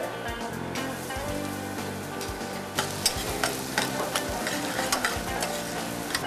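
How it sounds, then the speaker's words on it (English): Onions and garlic sizzle in hot oil with a dense, crackling fry, joined by sharp spatters and stirring scrapes that grow busier partway through, close and loud without talk. "Just go ahead and throw all the onions and garlic in there."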